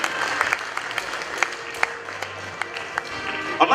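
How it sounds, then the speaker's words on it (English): Audience applause at a media awards ceremony, with scattered individual claps standing out over a thin, fairly quiet wash of clapping that rises slightly toward the end. "Shall we do a big round of applause for him"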